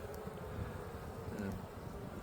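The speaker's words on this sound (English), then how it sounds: "The bees seem very calm on the frames." A steady, low hum of many honey bees buzzing close by on hive frames, continuous and even, with no voices.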